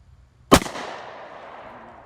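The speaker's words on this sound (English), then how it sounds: "God, you know you're shooting something when you fire this." A single sharp pistol shot from a .45 firing a 180-grain full metal jacket round into ballistic gel cracks loudly and close, then a long reverberant tail decays over more than a second.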